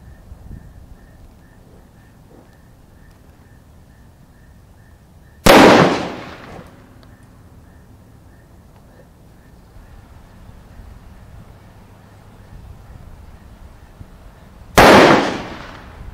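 Hornady Triple Defense .410 shotgun shells fired into 10% gelatin blocks fronted by two layers of t-shirt: two loud, sharp blasts about nine seconds apart, each decaying quickly into a quiet outdoor background.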